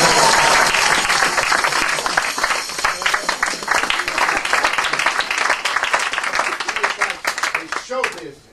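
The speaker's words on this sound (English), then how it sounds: "That's how you get the applause." An audience applauds a comedy magic trick, the four-ring routine: loud, dense clapping from a full room that holds steady, then tapers quickly and stops near the end.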